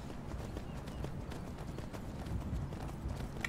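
Steady clip-clop of horse hooves at a quick gait in the video game Skyrim, close and continuous, over a dense rumbling background.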